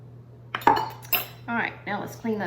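Glass canning jar rims being wiped and handled, producing a run of close, light clinks and taps of glass and metal over a steady low hum, with a few separate knocks spaced across the moment.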